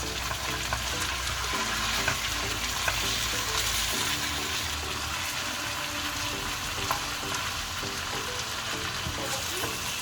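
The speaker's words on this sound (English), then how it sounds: "you fry that for a further 6 to 7 minutes, and always shake it like that so it doesn't stick at the bottom" Mirgal fish and uri sizzle steadily in a frying pan, a dense continuous hiss with occasional clatter as the pan is shaken, close and loud throughout with no talking.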